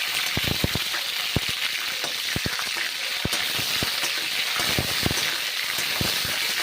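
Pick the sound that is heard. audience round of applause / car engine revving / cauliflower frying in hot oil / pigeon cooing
cauliflower frying in hot oil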